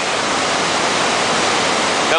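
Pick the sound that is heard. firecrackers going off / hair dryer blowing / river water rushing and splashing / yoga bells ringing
river water rushing and splashing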